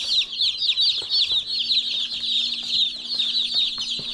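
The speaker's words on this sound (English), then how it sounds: "Look at all the baby chicks." A crowd of Cornish Cross baby chicks peeps nonstop nearby, a dense chorus of high, overlapping cheeps with a few soft knocks underneath.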